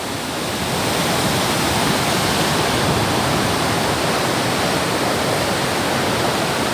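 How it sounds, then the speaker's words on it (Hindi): Water rushes over a waterfall at an outdoor picnic spot, a dense, steady roar that stays loud and unbroken from start to finish. "लेकिन ये जो पानी वाला शोर है ना"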